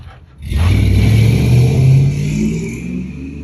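LS V8 engine swapped into a 1988 Chevy C1500 pickup rumbles to life, starting with a sharp catch and settling into a loud, steady, deep idle with slight swells in revs, close by and with no talk.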